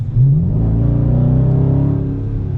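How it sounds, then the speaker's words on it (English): Exhaust of a 2019 Dodge Charger R/T Plus with the active exhaust deleted, revving on a quick throttle blip: a loud, close, deep rumbling rise that holds steady for a couple of seconds before easing off. "you can just hit the throttle and you get exhaust sound really quick"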